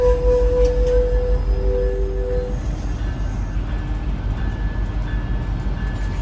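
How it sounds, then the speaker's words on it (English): An Amtrak Capitol Corridor passenger train, number 529 bound for San Jose with Charger locomotives, rumbles past the Oakland Coliseum as a loud continuous roar, with a fading horn-like tone at the start. "Okay folks, this is Amtrak Capital Corridor train"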